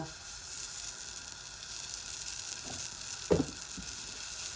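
Food fries in a pan with a steady, close hiss of sizzling oil, broken by a couple of brief soft knocks.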